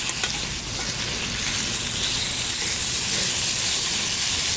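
Pancakes sizzle in a pan over a hot campfire, a steady close crackling fry with broadband hiss and no pauses.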